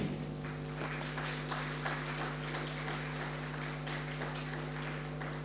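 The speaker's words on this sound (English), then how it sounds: "A round of applause for them." Applause from a medical conference audience rolls on steadily over a constant low electrical hum, even and sustained throughout.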